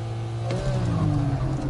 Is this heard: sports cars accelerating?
yes